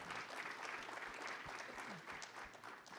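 Conference audience applause in a hall, an even, continuous rush of many hands clapping at moderate distance, with a few low thumps underneath.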